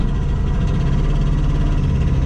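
Messerschmitt KR200 microcar engine running steadily with a dense low rumble and vibration, loud and close throughout with no talk.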